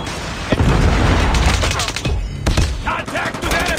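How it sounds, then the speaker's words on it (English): A predator missile strike and gunfire in the Call of Duty Mobile video game, with dense, loud bursts of rapid shots and heavy impacts running throughout and a voice in the mix. "Friendly predator missile inbound."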